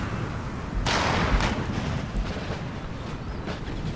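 Cannon broadside fire in the game Empire: Total War (DarthMod), a series of dull booming shots rolling over a constant windy, ocean-like background, with no talking.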